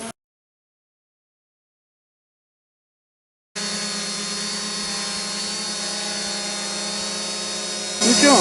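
A drone whines steadily as it comes down under manual control, a dense high-pitched motor and propeller buzz after a few seconds of silence, loud and close, growing rougher near the end.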